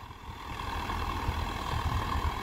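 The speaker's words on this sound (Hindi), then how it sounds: "जैसे कि आपको मालूम है, सामने ट्रैक्टर चल रहा है सोनाली का" A Sonalika DI 750 tractor pulling an 11-tine tiller runs at a steady, low rumbling drone, loud and continuous throughout with no talk over it.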